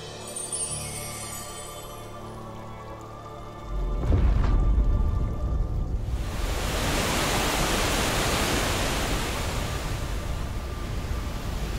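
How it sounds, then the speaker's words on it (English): A roaring waterfall in the video game Kingdom Hearts 3 bursts in as loud, dense rushing noise after a quieter start, holding steady and full for several seconds. "Wait, why should he be running away from the waterfall?"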